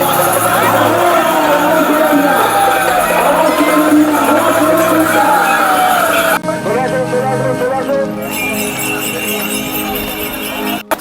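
A dense crowd of devotees at the Tarakeswar Shravani Mela in West Bengal fills the clip with a steady, loud babble of many voices, with traffic and movement mixed in throughout.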